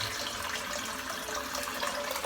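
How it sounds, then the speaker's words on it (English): Steady rush of tap water running into a sink, a continuous hiss and splash at an even level with no talking. "I'm just going to refill up the sink again."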